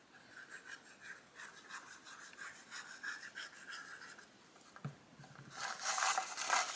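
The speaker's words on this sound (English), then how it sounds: "I like to burnish that together to make sure it gets good adhesion" Paper sections of a handmade envelope book, glued together and burnished by hand, give close, soft, continuous rubbing strokes that grow brisker and louder toward the end.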